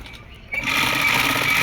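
A sewing machine starts up after a short quiet moment and runs in a fast, steady stitching whir while sewing a palazzo pant; loud and close.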